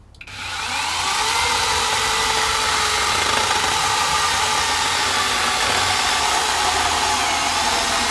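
Beihong battery 6-inch mini chainsaw spinning up and cutting through wood, a loud, close, steady high-pitched whine that rises quickly at the start and holds continuously, with no talking.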